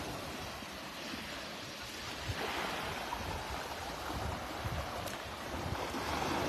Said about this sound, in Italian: regalandovi il suono del mare e la bellezza di questa grande natura siciliana.